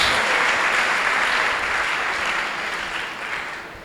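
A church congregation applauds together in a dense, loud wash of clapping that holds steady and then slowly fades toward the end.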